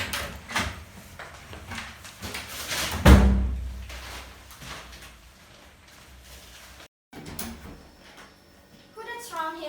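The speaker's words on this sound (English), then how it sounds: "Who that's around here slamming door in these hours?" Door slam during a stage play of A Raisin in the Sun, one loud heavy thud mid-scene, with actors talking before and after it.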